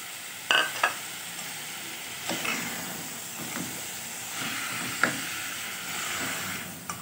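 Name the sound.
potatoes added to frying vegetables in pan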